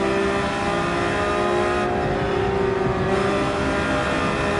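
Porsche 911 GT3 engine at full throttle in Gran Turismo 7 at Mount Panorama: a loud, sustained, high-pitched racing engine whine holds steady and close throughout, with a brief dip in the top end midway.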